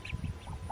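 Ducks on a small homestead, a few soft quacks and low murmuring calls from birds sitting on eggs, close by and fairly quiet, with no one talking.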